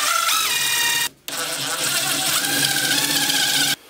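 Self-tapping screws driven into a wood burner's stove pipe with a power driver: a loud, steady whirring drill run, a brief pause, then a second sustained run with rising pitch, close and alone.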